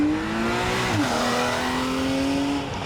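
A Porsche 911 engine pulls hard at full throttle on a race track, a strong steady drone that dips briefly at a gear change, then climbs again, loud and close, with no voices.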